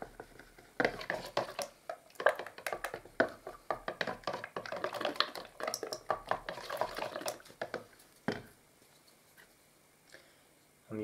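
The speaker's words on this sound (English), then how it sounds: "with your gloss, most important thing, stir it up." A tin of water-based gloss paint is stirred right down to the bottom, with irregular scraping and knocking of the stirrer against the tin under a man's speech, then quieting near the end.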